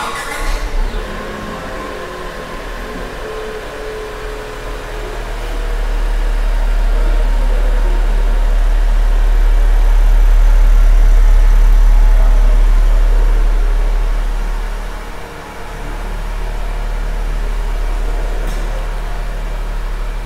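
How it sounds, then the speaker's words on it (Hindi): A 2024 Tata Nexon facelift diesel engine starts and settles into an idle, with a low steady rumble that swells after a few seconds, holds, dips briefly and then resumes, close and unaccompanied by talk. "तो गाइज ये था इस कार का इंजन नॉइस।"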